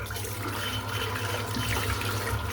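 Lukewarm tap water runs steadily into a sink while a shaving brush is rinsed out, a continuous close splashing rush with no voices over it.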